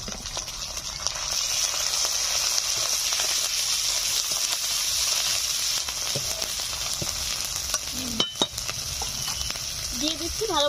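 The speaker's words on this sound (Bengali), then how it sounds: "পেঁয়াজগুলো 1 মিনিট মতো ভেজে নিয়েছি, এখন দিয়ে দিচ্ছি আদা বাটা আর কাঁচা লঙ্কা বাটা।" Chopped onions frying with ginger paste and green chili paste in a pan, a steady close sizzle throughout with occasional stirring scrapes near the end.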